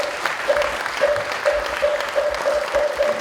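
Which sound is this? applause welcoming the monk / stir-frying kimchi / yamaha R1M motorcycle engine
applause welcoming the monk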